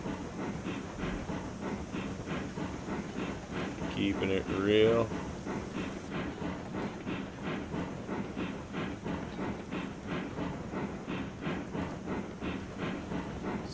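A freight train rolls along in the RailRoads Online video game, its steady rhythmic clatter running throughout under someone talking, with a brief louder swell in the middle.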